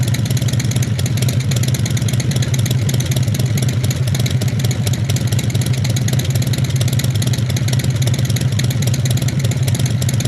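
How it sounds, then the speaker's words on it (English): Carbureted 1340 Evo engine on a Harley-Davidson idling with a loping beat, a loud, close, steady low rumble with an uneven rhythmic pulse that runs unbroken throughout. "to beat the sound of that Harley-Davidson Lope"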